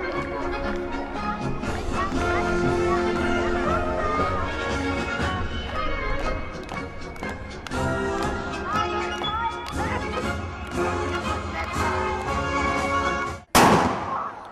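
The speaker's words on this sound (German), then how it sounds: "Peng, ein Schuss fiel vom Rathausbalkon, aber kein Schütze war zu sehen." Music plays steadily for a long stretch at a carnival opening in Bad Elster, then one sharp, loud gunshot fired from the town hall balcony cracks near the end, followed by the music continuing.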